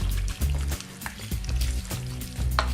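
Warm tomato sauce is stirred into chopped vegetables for salsa: close wet squelching and scraping in a repeated stirring rhythm, with soft sloshing and a few light clinks against the bowl.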